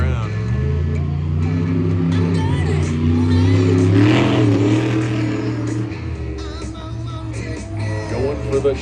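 A monster truck's engine revs hard and loud at a freestyle show in Wheatland, Missouri, as it launches over a shipping container, a steady roaring drone that swells and dips with the throttle.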